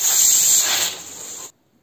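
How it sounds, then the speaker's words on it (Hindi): Steam hissing from a pressure cooker whistle while elephant foot yam cooks, a loud close spray of steam lasting about a second and a half before cutting off sharply. "अब इसमें हम सीटी लगा लेते हैं छः सीटी लगाएंगे"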